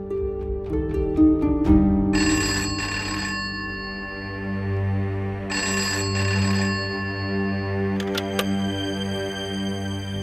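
A telephone rings in a Hindi TV drama household scene, sounding in two distinct bursts of bright electronic ringing over low background music, with no talk.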